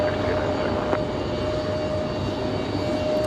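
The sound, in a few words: Delta airliner taking off for Atlanta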